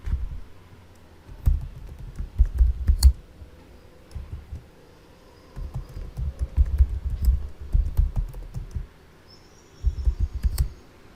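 A password for the root account is typed on a computer keyboard in several short bursts of rapid clicking keystrokes, separated by pauses, up close with no speech.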